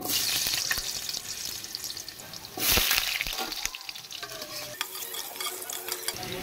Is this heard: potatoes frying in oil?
yes